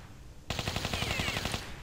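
Rapid automatic gunfire in the video game Tomb Raider 3 on a training-level target range, a loud burst of evenly spaced shots lasting about a second after a quiet start, with no talk.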